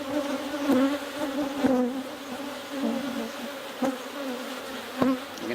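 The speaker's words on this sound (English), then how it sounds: "Yes, the next box will have more bees." Honey bees buzz inside a hive box during requeening, a steady close hum with wavering pitch and occasional sharper passes as individual bees fly near.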